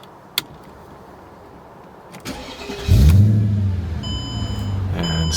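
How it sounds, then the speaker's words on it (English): A Mercedes CLK55 AMG fitted with a swapped supercharged M113K V8 cranks and fires up close by, settling into a steady, loud idle after a short starter whir; a faint chime and electrical clicks come before it, with no talking. "So I'm going to shut it off, start it back up,"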